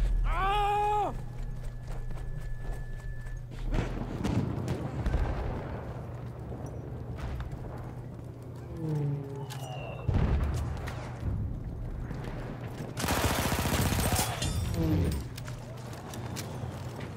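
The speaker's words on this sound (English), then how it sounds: "Sniper's shooting over here." Sniper gunfire in the video game Battlefield 1, several sharp shots and booming reports scattered among battlefield noise, with a steady low rumble underneath and no talk over them.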